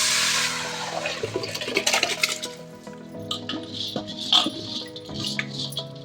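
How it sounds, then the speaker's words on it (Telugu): Rice pours into a pot of water for chicken dum biryani, with a rushing watery burst at first, then softer sloshing and occasional clinks from the pot, close and without talk. "ఇప్పుడు బియ్యం పోసేస్తున్నానండి"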